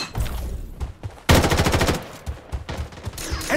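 Gunfire in the battle royale video game Bloodstrike, with scattered single shots and then a loud rapid automatic burst lasting under a second, followed by more spaced shots, all close and punchy.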